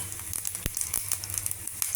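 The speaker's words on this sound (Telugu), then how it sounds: "ఆవాలు చిటపట్లాడుతున్నాయి, పోపు వేగింది." Mustard seeds and urad dal pop and splutter in a spoonful of hot oil for tempering amla pickle, scattered sharp crackles over a steady low sizzle, close up.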